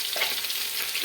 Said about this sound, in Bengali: বাকি মাছগুলো আমরা এভাবে ভেজে নেব